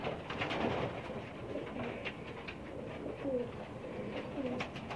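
A slate-grey pigeon on a rooftop loft in Pakistan coos in soft, low repeated phrases amid a busy murmur of other birds, close and steady.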